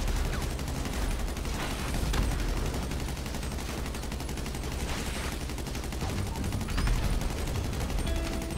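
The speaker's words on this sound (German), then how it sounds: "noch ein Schuss mit der Explosiv-Sniper" Explosive sniper rifle fire in GTA V Online during a Doomsday Heist mission, heard as loud game gunfire and blasts over a dense, continuous battle din.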